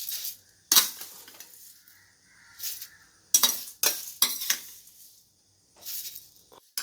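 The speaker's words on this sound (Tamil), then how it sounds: "நல்லா வறுபட்டுருச்சு, அதனால் சலசலம் சத்தம் கேட்குது போடும்போது" Flattened rice (aval) tossed into hot ghee in a pan makes several sharp, crisp rustling bursts with quieter gaps between them, close up, no voices.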